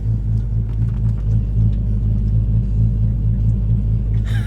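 A 1,000-horsepower Dodge Hellcat on a full drag setup idles with a deep, loud, lumpy rumble, its rhythmic throb pulsing steadily and close, shaking the car while stopped.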